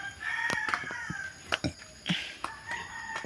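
A rooster crows nearby, loud and drawn out, followed by a few sharp caws and short calls in open outdoor air.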